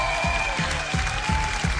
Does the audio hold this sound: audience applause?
yes